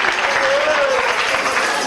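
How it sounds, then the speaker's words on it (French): Audience applause at a Christmas party, a steady wash of clapping from a crowd that fills the whole moment, loud and continuous, with a faint voice carrying over it. "Applaudissez plus fort, merci."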